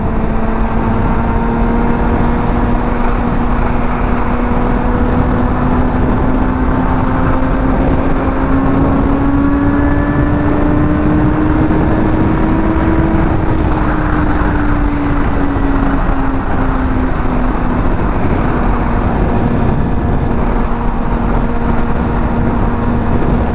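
A Honda F4i motorcycle engine hums steadily at highway speed, its tone slowly climbing and dipping slightly under constant loud wind roar, with no break and no voices.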